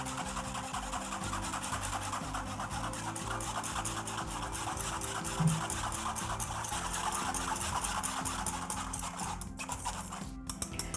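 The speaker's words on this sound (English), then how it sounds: "I'm gonna switch to my whisk because it will be faster" Butter being whisked into warm pastry cream in a bowl for an apple crisp trifle, a steady rhythmic scraping and swishing that runs continuously at close range with no talk.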